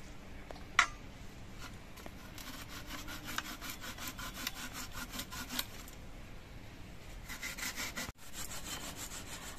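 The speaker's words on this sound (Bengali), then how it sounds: "এই ঘষনি দিয়ে আমি মান কচুগুলো ঘষে নেব, তাহলে বাটার মতো হয়ে যাবে।" Giant taro root is rubbed against the round ginger-grating holes of a metal hand grater, a faint, steady series of rasping scrapes in a rapid rhythm with a brief pause near the end.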